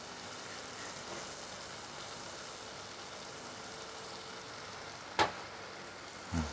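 Wheat flour being stirred into sautéed onions in a pan over low heat, a faint steady frying hiss with a couple of brief knocks near the end.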